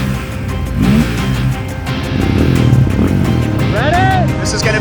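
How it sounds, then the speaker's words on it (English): Honda 400EX quads, one big-bore with a cam and one stock, revving loudly and steadily nearby for a drag race, engine drone rising and falling with brief pitch sweeps, voices talking over it. "Why don't we line it up with the OEM one and see? We'll have a little drag race."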